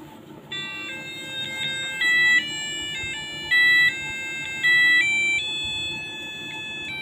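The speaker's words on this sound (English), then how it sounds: "Don't ask. It's my freaking alarm clock." A Fortnite-themed alarm clock rings out a repeating electronic chime pattern of bright stepped tones, with several louder bursts in a steady beeping melody.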